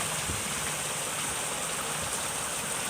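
Onions sautéing in a pan before prawns go in, a steady close hiss of frying with a soft crackling texture, continuous and even, no voices.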